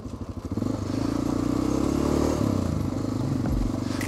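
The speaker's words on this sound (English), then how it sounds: "the Honda does so well off-road." A Honda motorcycle rides off-road through forest, its engine a loud, continuous low rumble joined by rattling and scraping from the rough ground, heard close throughout.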